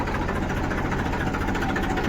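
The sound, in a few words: tractor engine running, loaded and ready to leave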